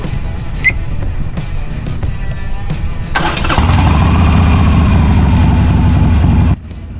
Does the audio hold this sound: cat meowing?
no